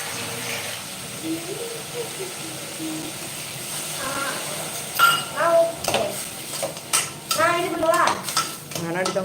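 Ingredients sauté in a pan for a nalli elumbu (mutton marrow bone) kuzhambu, a spoon stirring and scraping with soft sizzling, metal clinks growing busier later, while a person talks intermittently.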